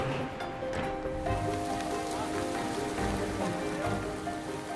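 Heavy driving rain pours steadily on a house building site on the day the roof is lifted, a constant dense hiss and patter with a faint tonal hum underneath, no voices.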